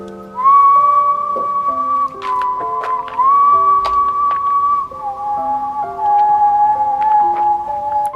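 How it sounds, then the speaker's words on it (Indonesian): Someone whistles a slow, clear melody with sustained notes, accompanied by soft background instrumental tones and occasional faint taps. "mendengar suara siulan"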